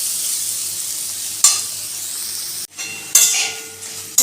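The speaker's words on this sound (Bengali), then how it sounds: "গ্যাসের ফ্লেমটা কমিয়ে দিয়ে একটু হালকা করে নেড়ে চেড়ে নেব" Sago pulao is stirred and fried in a pan over a gas flame turned low; a soft steady sizzle is broken by several sharp scrapes and clanks of a spoon against the pan, close and without voices.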